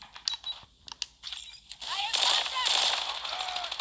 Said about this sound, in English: yeah, it's a burst pistol.